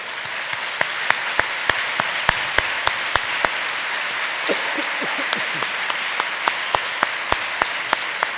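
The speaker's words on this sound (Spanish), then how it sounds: "Démosle un fuerte aplauso a Jesús." Sparse clapping at a church service, individual sharp claps at an uneven pace, fairly faint, with a brief murmur of voices partway through.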